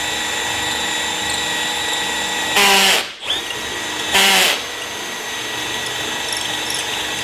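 A power drill is wobbled to widen a hole in a workbench, giving two short loud whirring bursts about a second apart over a steady background hum.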